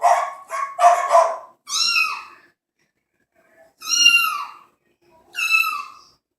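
Cat meow sound effects played through a sound bar, two bursts of quick electronic mewing followed by pauses and then two louder, clearer meows, each short and separated by silence.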